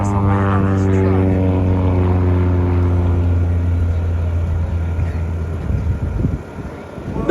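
A small aerobatic propeller plane at an air show at Davis-Monthan AFB drones loudly and steadily, its engine tone holding nearly constant before dipping briefly near the end.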